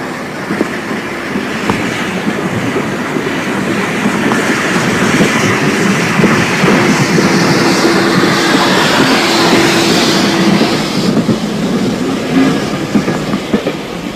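A steam locomotive built at Crewe Works in 1888 rolls on rails into Victoria, a loud, sustained rumble with a rhythmic clickety-clack of wheels and faint metallic squeals, heard alone without talk.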